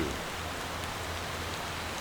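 Steady rain in the video game Motor Town falls as a continuous, even hiss with no talk over it, against a low engine hum.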